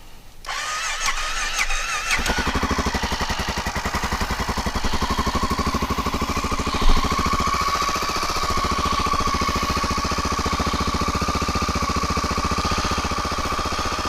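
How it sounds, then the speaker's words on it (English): A motorcycle with nearly 18,846 miles on it cranks and fires up at a campsite, then settles into a loud, steady, rattling idle while warming up, with no one talking. "I'm going to start this bike up in the meantime and try to let it warm up."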